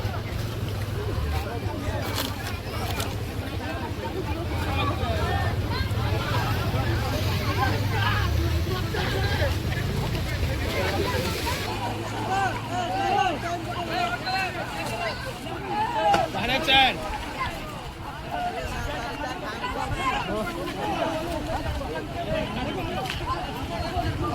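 A crowded natural river swimming pool in east Nepal on a hot day gives a loud, constant hubbub of many voices and splashing water, with people talking nearby throughout.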